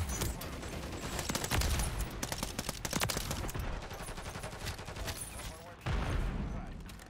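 Heavy gunfire aimed at a helicopter in Modern Warfare, dense rattling bursts running almost continuously, loud and close, with some talk mixed in underneath.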